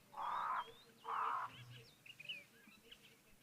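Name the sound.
crows squawking at a waterhole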